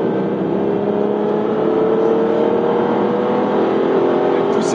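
Engine of a 2011 Aston Martin Virage held in gear and revving hard toward its limiter near 6,000–7,000 rpm, a steady loud drone with cabin road noise, heard alone without talk.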